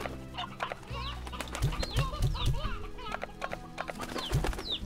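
Chickens cluck in Slime Rancher amid soft thuds and game sounds, with a voice talking over them.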